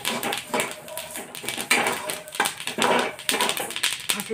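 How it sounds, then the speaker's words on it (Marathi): Flax seeds are roasted in a pan and sound as a close, busy rattling crackle of tiny seeds stirred against metal. It is dense and continuous with soft knocks, and a voice speaks faintly at times. "आता हे बघा, चांगली खमंग असं भाजून घ्यायचे जवस।"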